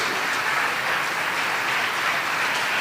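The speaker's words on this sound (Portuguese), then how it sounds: "dê um aplauso bem forte ao Deus" Church congregation applause, a dense, steady wash of clapping and crowd noise that stays loud and even throughout.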